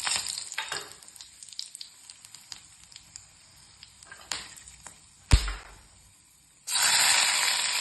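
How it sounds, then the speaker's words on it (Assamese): Whole cardamom pods, cloves, cinnamon and a dried red chilli sizzle in hot oil left over from frying eggs, a crackling, spattering fry with a sharp splash partway through, then a loud steady hiss as more sizzling takes over. "ডিম ফ্ৰাই কৰা তেলখিনিতে এতিয়া ইয়াত দিছোঁ 2টা ইলাচি, লং, ডালচেনি আৰু এটা শুকান জলকীয়া"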